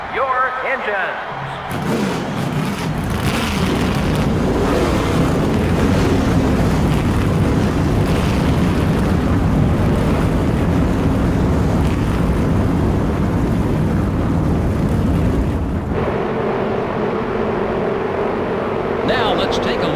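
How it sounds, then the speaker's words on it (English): Race car engines in NASCAR Thunder 2003 fire up and roar together as a dense, loud, continuous engine drone, with a game announcer talking over the start before the sound settles into a steadier hum. "Gentlemen, start your engines."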